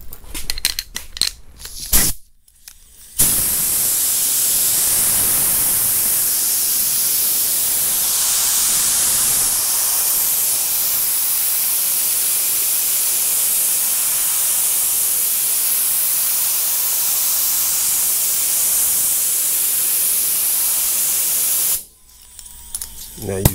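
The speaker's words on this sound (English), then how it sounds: "I dry it off a lot faster with the blow hose" An air blow hose dries freshly buffed black car paint with a loud, steady hiss of compressed air that runs for about twenty seconds, with handling clatter before and after.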